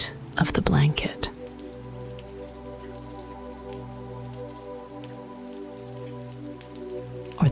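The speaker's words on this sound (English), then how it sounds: "the simple sound of rain repeating itself" Steady rain patters on glass, a soft continuous wash with a brief louder burst of drops near the start, then an even, quiet hiss with a low hum beneath.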